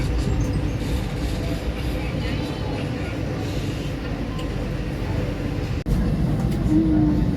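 Pangrango passenger train pulling away from Karangtengah station, a steady low rumble and rolling clatter running throughout at close range, with a brief dropout near the end and murmuring voices in the background.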